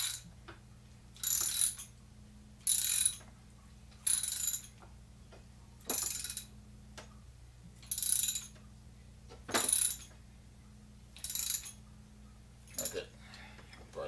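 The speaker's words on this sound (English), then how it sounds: "now we're gonna take our ratchet and we're gonna tighten this down" A ratchet tightening a brake line fitting clicks in about nine evenly spaced bursts, close and crisp, over a steady low mechanical hum.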